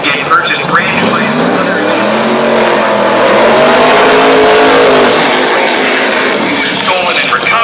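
A 1964 Corvette drag race car with a Mike Ford-built motor roars loudly nearby, its engine pitch climbing and then sweeping down over several seconds, with background voices.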